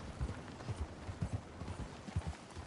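Horse hooves trotting in Red Dead Redemption 2, a steady clip-clop rhythm of low, close hoofbeats repeating through the whole stretch with no talk over it.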